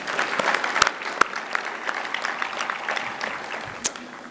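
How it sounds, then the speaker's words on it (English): Moderate audience applause at a conference in a hotel, a mix of many hands with a few sharper individual claps standing out, fairly steady and then thinning slightly toward the end. "maybe a round of applause for the hotel as well"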